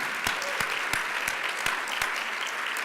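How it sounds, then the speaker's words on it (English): A luncheon audience at a scholarship recognition event applauds: a dense, even spread of clapping from many hands, with a few distinct sharp claps standing out in a loose rhythm, moderately loud throughout. "I think that deserves a round of applause."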